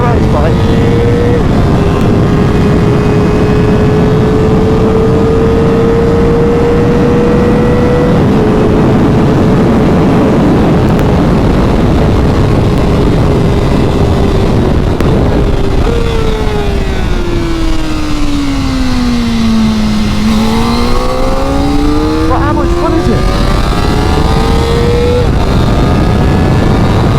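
A Kawasaki ZX-4RR road bike is ridden hard around a race track, its engine droning loudly and continuously under heavy wind rush, the pitch holding, sagging as it slows into a corner, then climbing again under acceleration.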